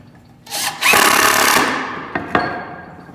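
A power drill driving screws into a wooden trail camera box, heard as a sustained close, loud whir lasting about a second and a half, then fading, followed by two brief sharp bursts.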